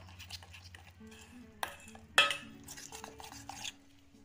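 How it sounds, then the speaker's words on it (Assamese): Batter mixed with water is beaten in a bowl, a quick rhythmic stirring clatter punctuated by a couple of sharp knocks against the bowl's side, with no talking. "এতিয়া অলপ অলপকৈ পানী দি পেলাই এইখিনি ফেটিব লাগিব।"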